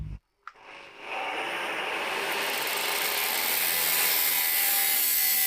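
After a brief pause, harsh, continuous grinding noise of a metal exhaust pipe being cut on a Nissan drift car with a 2JZ engine starts up and keeps going loud and close.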